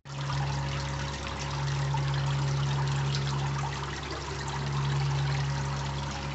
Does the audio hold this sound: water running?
yes